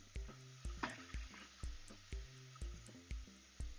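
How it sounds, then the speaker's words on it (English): Masala paste for veg pulao fries in a pan over a low flame, giving a soft sizzle broken by a regular rhythm of stirring or scraping knocks, close and fairly quiet. "Now I've added my masala paste to the mixture. I'm going to let it fry for about 7 minutes"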